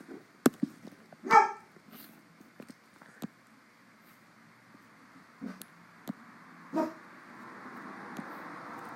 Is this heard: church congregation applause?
no